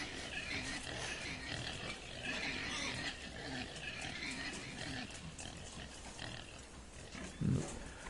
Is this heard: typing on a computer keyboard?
no